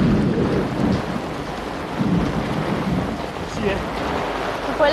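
Heavy rain pours down in a steady, dense hiss with low rolling thunder swelling underneath, faint voices present in the background.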